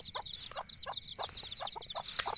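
Desi chicks chirping and peeping in quick, repeated high calls while eager for feed, a steady close chorus with short bursts of lower clucking woven through, no voices.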